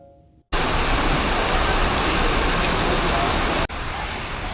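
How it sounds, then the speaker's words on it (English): Steady heavy rain pours down at Batu Caves, a dense unbroken hiss that starts abruptly and runs throughout, dipping briefly near the end before continuing. "it started to rain"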